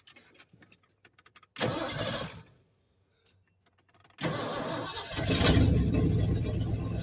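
An engine cranks and catches, then after a short quiet it starts again and runs steadily, loud and close, with a rough mid-range rumble.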